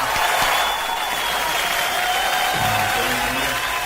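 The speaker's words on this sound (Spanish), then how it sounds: "El aplauso" A church congregation welcomes a guest preacher with applause, a broad steady wash of clapping that carries on for a few seconds with faint voices underneath.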